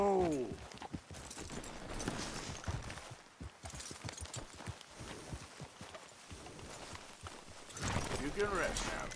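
Clip-clopping horse hooves in the Red Dead Redemption 2 video game, a quick run of hoofbeats close by under a man's chatter, with a horse's whinny at the start and end.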